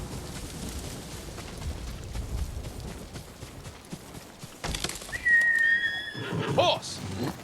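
A horse in the video game Ghost of Tsushima neighs with a loud, shrill whinny over rushing outdoor ambience, preceded by a noisy burst.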